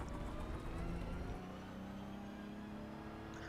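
GT3 car engine in iRacing at Monza, throttle picked up again and again; a steady, fairly quiet engine drone with a rising whir that shifts pitch midway, alone without talk.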